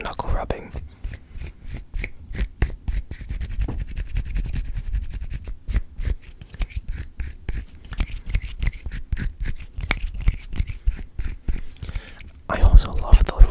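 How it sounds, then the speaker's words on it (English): Bare hands rubbing knuckles together in a quiet room, a dense run of soft, close, rhythmic scratchy strokes with brief pauses, alone and without talk. "We could do some knuckle rubbing."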